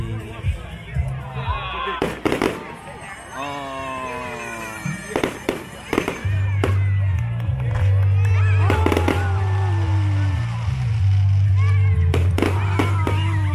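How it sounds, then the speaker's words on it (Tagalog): Victoria Day fireworks bang and crackle in scattered sharp bursts, some loud and close together, over a steady low rumble, with people talking and cheering nearby. "Wow, the fireworks display."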